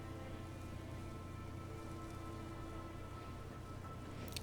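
Rain falls in the video game Elden Ring: Nightreign as a steady, faint wash of rainfall with a low rumbling bed, continuous throughout and without voices.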